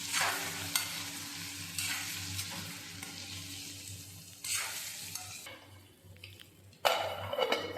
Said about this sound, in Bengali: আলুগুলোকে ফ্রাই করার জন্য দিয়ে দিচ্ছি।